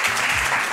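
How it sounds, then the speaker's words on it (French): A TV studio audience applauds on a French talent show, a brief, steady burst of clapping at moderate level with no voices over it. "on les applaudit très fort"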